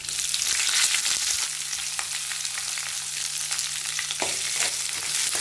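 Garlic and onion frying in a pan for bitter gourd thoran, a loud continuous sizzle with occasional scraping stirs, no voices.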